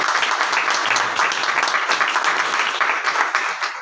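A church congregation claps along in quick, rhythmic bursts, loud and close, a steady patter of many hands filling the whole moment with no voice over it.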